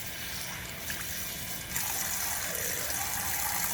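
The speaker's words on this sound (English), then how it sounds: "Let me wash my hands" Hands being washed under a running kitchen tap, a steady close hiss and splash of water that grows fuller partway through, with no talking.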